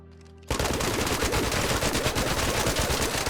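Rapid automatic gunfire from the Stitcher weapon in the video game ARC Raiders, a dense continuous burst emptying the magazine, loud and close, starting abruptly after a brief quiet moment and holding steady to the end.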